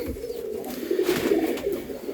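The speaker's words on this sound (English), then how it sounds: "3 lovely pigeons" Pigeons cooing in a family aviary, soft repeated throaty coos near the listener over a steady background hiss, with no talking.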